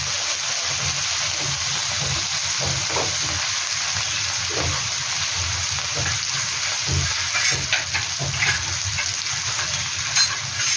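Fish masala with salt, turmeric and chilli is sautéed in a pan, giving a continuous loud sizzle with scattered crackles and soft stirring scrapes throughout. No one speaks.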